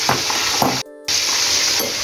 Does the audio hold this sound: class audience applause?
no